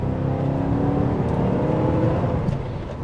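A Porsche 928 engine revs and accelerates steadily, close and loud, with a throaty low rumble rising through the run and no talk over it.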